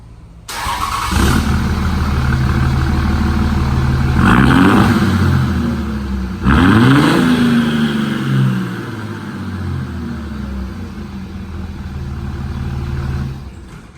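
A 2005 Ram 2500 turbo diesel pickup with a muffler-deleted exhaust idles loudly, then revs twice in sharp rising bursts that fall back to a deep, rumbling idle, close and alone.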